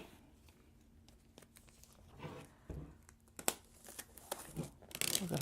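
Pull tab being torn off a new 2018 iPad Pro 11-inch box, a dry crinkling rip of cardboard and paper that builds over a few seconds into a louder final tear, close by with no talking.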